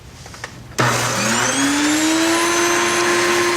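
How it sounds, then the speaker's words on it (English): An electric grain mill starts up abruptly and grinds barley into flour, a loud steady whirring hum with rising pitch as the motor spins up, close and continuous with no talking. "it just wouldn't be as healthy or as good as grinding your own"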